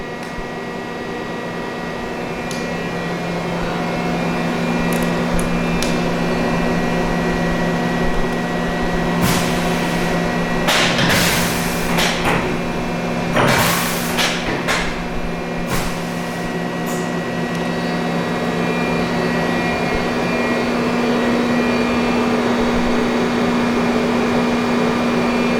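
A 2000 Mighty Viper V-1600 vertical machining center spindle running after a tool change gives a loud, steady, tonal hum, with a few brief clanks and rattles partway through.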